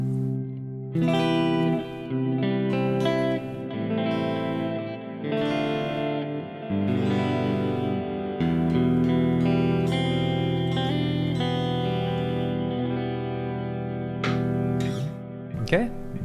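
Electric guitar with its pickup coils split, run through a Quad Cortex with reverb and delay trails, plays sustained chords and single notes at steady volume for about sixteen seconds, with no talking.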